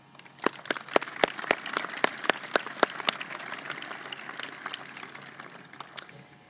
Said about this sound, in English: So please share in your applause